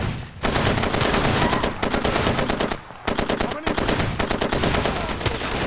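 Ammunition cooking off in the video game Far Cry 2: dense, rapid crackling bursts of loud gunfire-like pops that run continuously, broken by two brief dips, with no talking over it.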